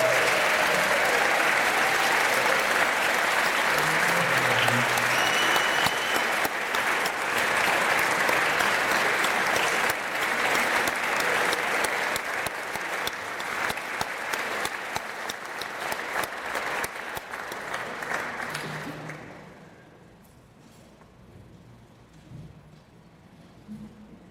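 An audience at a hall of fame ceremony applauds and cheers loudly in a dense, steady wash for about twenty seconds, then it fades quickly to quiet room noise.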